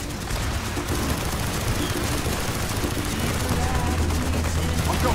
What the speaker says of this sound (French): Mason, tire au canon principal.